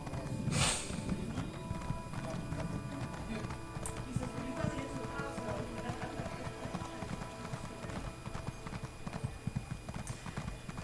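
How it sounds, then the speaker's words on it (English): Hooves clip-clop in a quick, steady galloping rhythm throughout, with a brief horse snort near the start over a low background rumble, from the video game Elder Scrolls Online. "I can now use my horse's stamina to run"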